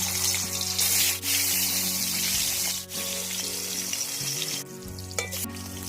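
Loud, steady sizzling of rui fish frying in hot oil, with a few brief dips as pieces are moved around in the pan.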